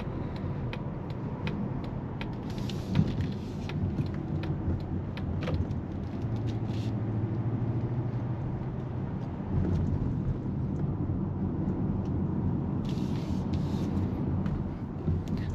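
Interior cabin sound of a 2023–2024 Mazda CX-50 cruising on a highway, a steady low road and engine rumble with wind hiss, continuous and even, with no talk.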